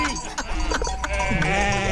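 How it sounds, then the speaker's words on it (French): Flock of sheep bleating during a transhumance through a French city centre, several overlapping wavering calls close by over a busy low rumble, with a voice briefly audible. "Voilà les moutons, Guy."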